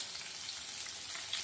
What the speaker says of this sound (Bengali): এপিট ওপিট করে হালকা লাল লাল করে মাছগুলো ভাজা হয়ে গেছে